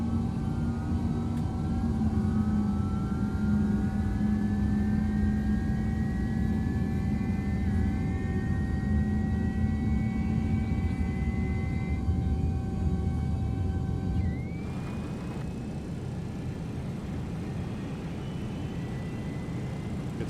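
GE engines of an MD-11 airliner in the X-Plane flight simulator spooling up, with rising whining tones over a steady low roar, then an abrupt change to a new whine and hum after about fourteen seconds.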